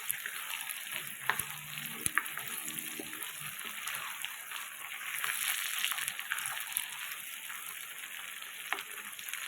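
Chopped onion and tomato fry in oil with a dense, wet, continuous sizzle and spatter, close by, with a few scraping stirs and clicks of the spoon.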